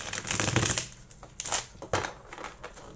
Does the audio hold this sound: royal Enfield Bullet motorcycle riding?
no